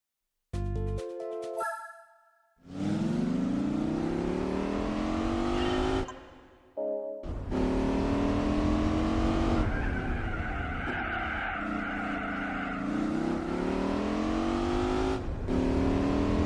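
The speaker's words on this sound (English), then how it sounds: "Oh, listen to that throaty engine." A race car in Gran Turismo 4 at Laguna Seca revs hard through rising gear pulls, with a brief drop between shifts and tire squeal, loud and close, preceded by a few short menu beeps.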